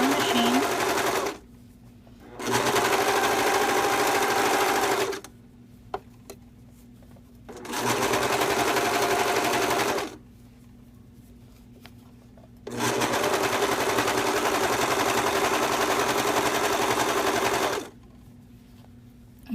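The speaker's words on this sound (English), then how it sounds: "If you don't have a serger, you can just sew this on your regular machine." A serger stitches the neckband onto a V-neck tee shirt in three long, loud, steady runs of rapid machine whirring, separated by quiet pauses.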